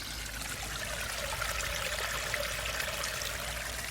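Water trickling over the ground and dropping into a pipe, a steady close splashing flow with no pauses, heard alone.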